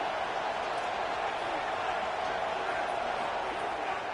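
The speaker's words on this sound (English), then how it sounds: "This crowd still bringing the intensity to open the second half." A stadium crowd in the College Football 27 video game roars in a steady, dense wash of cheering at the opening of the second half of a Georgia versus Penn State game. The noise stays constant throughout, with a commentator talking over it.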